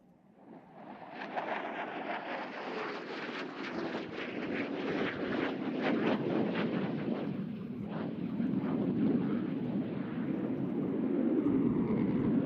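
An F-16 fighter jet at the NAS Oceana air show passes with a rising, rumbling roar. The broad noise builds and stays loud, heard from a distance over an open field.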